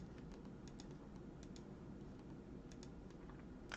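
Quiet typing of a search on a computer keyboard, a steady string of soft key clicks at an irregular rhythm over a low background hum, close and faint with no talking.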